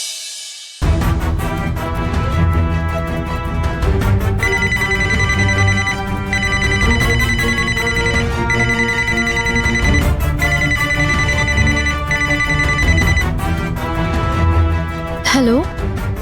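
A phone rings from an incoming call placed from a second SIM, a repeating tone pattern heard steadily over background music in an indoor drama scene.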